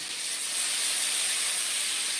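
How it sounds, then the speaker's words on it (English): Asparagus sautéing and simmering in a pan, giving off a steady, close hiss that swells slightly after the first half second and holds even and unbroken. "They're sauteing and simmering."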